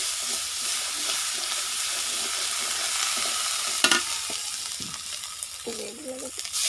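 Onion frying in a pan with ginger paste added makes a quiet, steady sizzle. A few stirring knocks and scrapes come through near the end.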